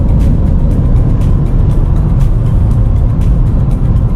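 A car drives on a New Mexico road toward White Sands National Park, giving a loud, steady interior rumble of engine and road noise with wind buffeting.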